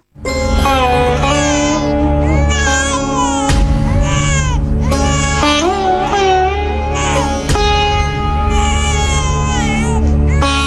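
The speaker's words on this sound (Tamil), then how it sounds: "ஏதோ குழந்தை அழுத மாதிரி சத்தம் கேட்கறது" An infant cries loudly and continuously, close up, with wailing rising and falling in repeated bursts and no talk over it.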